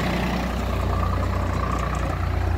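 A Swaraj 855 FE tractor pulling a computer-controlled land leveller in a farm field runs with a steady, deep diesel rumble that throbs evenly and close throughout, with no voices.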